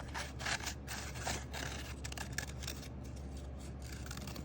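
Scissors cut steadily through paper to free a circle for a collage, giving a continuous run of close, crisp scraping snips over a low constant hum, with no voices.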